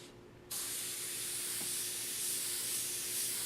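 An airbrush sprays sepia smoke paint in a continuous close hiss that starts abruptly and holds steady for a few seconds, alone without talk.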